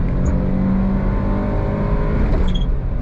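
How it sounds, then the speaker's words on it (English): A Suzuki Jimny JA11 engine revs during a sudden downshift while driving, a loud steady drone of engine and road noise heard from inside the vehicle, with a slight rise in pitch near the end. "Right there, it's like that downshift that just happens out of nowhere."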